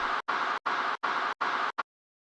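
A reverb tail layer for a kick drum punch, heard as five broad washy bursts in a quick even rhythm followed by a short clipped one, fairly faint and alone.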